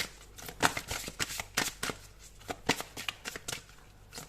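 Tarot cards shuffled for a reading, a crisp run of riffling and flicking card bursts repeating in quick irregular rhythm throughout, close and fairly quiet with no voice.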